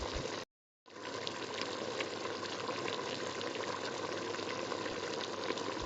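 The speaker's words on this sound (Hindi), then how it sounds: "इसके बाद 3 कप गर्म पानी डालेंगे।" Hot water, three cups' worth, poured into a pot of beef karahi with onion, a steady rushing, sizzling wash that follows a brief gap and runs continuously, close and fairly loud with no talk.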